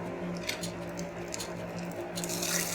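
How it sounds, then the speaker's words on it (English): Hot tempering is tipped into cooked peanut rice, giving a brief, soft squishing sizzle close by. "Add the tempering into the rice."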